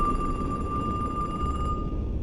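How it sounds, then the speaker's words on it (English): A payphone rings in a video game with a steady electronic bell tone that holds for most of the moment before cutting off, over a dense low background rumble. "Is it a payphone ringing?"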